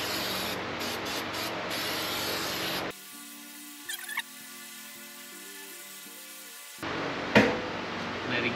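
Adhesive glue sprayed for car carpet in a 1984 Cummins-swapped Suburban: a loud, steady hissing blast for about three seconds, a quieter stretch of other workshop sound, then a second close spray burst.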